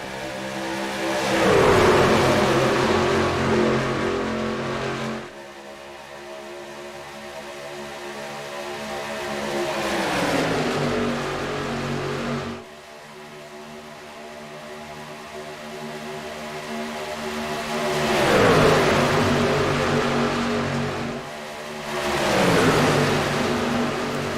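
Stock-car-style racing trucks in a racing video game roar past in waves, engines revving and swelling loud as they close in, then dropping in pitch and fading, with several passes repeating over a steady droning engine bed.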